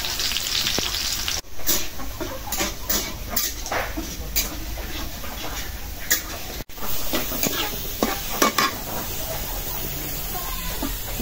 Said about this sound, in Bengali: এই যে শুকনা মরিচ আর রসুনটা একটু ভালো করে ভাজা নিলাম।